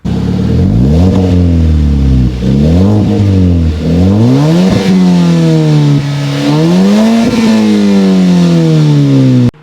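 A Hyundai Veloster engine revs repeatedly through a loud exhaust, pitch rising and falling in surges, close and continuous with no talking.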